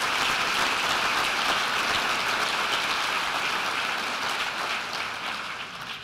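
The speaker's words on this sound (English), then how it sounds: "Let's give them a round of applause." An audience at a community planning summit applauds in a dense, sustained burst of clapping that holds steady, then tapers off toward the end.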